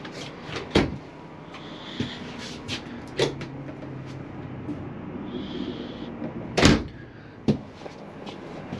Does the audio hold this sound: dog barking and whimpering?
no